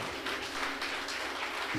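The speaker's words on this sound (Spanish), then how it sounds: "Dale un fuerte aplauso al Señor" Congregation applause during an evangelical church service, a steady broadband patter of many hands filling the room at moderate level with no distinct claps standing out.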